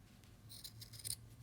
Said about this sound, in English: So what I want you to do is take your scissors